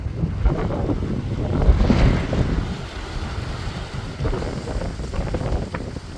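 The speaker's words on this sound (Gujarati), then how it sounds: "પવન નીકળ્યો" Strong wind blowing and buffeting the microphone, a low rumbling roar that swells and eases, with no voices.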